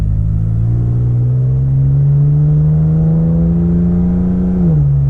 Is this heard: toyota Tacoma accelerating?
yes